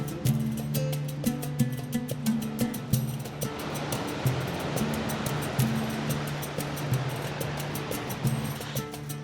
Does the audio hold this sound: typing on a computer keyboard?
no